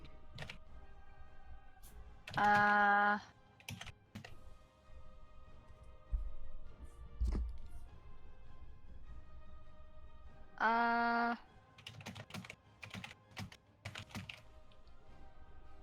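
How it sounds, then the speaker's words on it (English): Computer keyboard typing clicks away faintly in the background of a tabletop role-playing session, scattered keystrokes interrupted by two brief louder tonal bursts. "Who's typing?"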